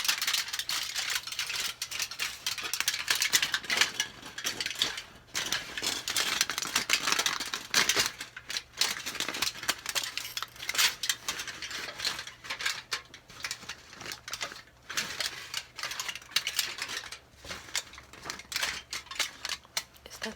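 Crinkly rustling of aluminum foil being wrapped snugly around a dress sleeve, a steady dense crackle with brief pauses, close and fairly loud, with no talking.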